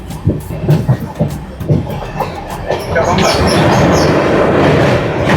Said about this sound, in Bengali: নসিপুর রেল ব্রিজ ক্রস করছে এখন 13125 কলকাতা সাইরাং এক্সপ্রেস